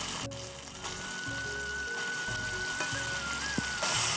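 Mutton dropped into a pan of hot ginger, cumin, chilli and garam masala paste sets off a steady close sizzle and frying hiss, with a few clinks of the pan and a faint whistle-like tone running through.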